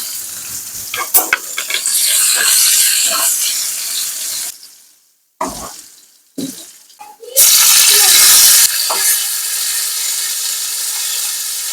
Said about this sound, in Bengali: পেঁয়াজটা প্রথমে একটু লাল লাল করে ভেজে নেব